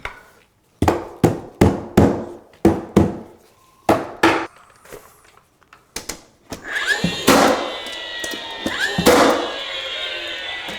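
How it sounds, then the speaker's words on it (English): DeWalt nailer blind nailing hardwood flooring on a second story, sharp close thunks fired one after another in a quick run of about a dozen shots, followed by rustling and handling noise. "I'll go ahead and shoot some of these with the blind nailing through that with the DeWalt nailer"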